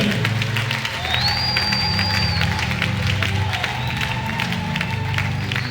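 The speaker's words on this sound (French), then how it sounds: "Applaudis très bien pour le Seigneur" A church congregation applauds for the Lord in a sustained burst of loud, dense clapping mixed with crowd noise, with a faint tone sounding above it.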